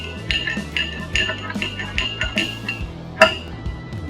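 A metal spoon mixing sugar into homemade bubble solution, giving a run of light, repeated clinks and scrapes against the container in an uneven rhythm, with one sharper clink near the end; no voices.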